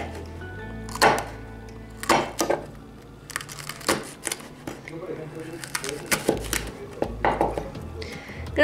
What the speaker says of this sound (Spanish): Y ahora voy a picar mi chile peruano